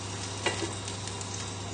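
Ingredients for chicken liver pâté fry in a pan with a soft, steady sizzle and a few faint stirring scrapes, quiet and continuous with no talk.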